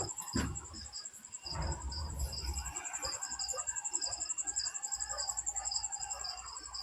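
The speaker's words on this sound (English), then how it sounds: "We got a lot of crickets now." Crickets chirp steadily outdoors at night in a continuous high trill, with faint rustling and a brief low thump near the start.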